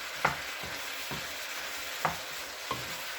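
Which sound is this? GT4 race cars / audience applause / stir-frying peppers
stir-frying peppers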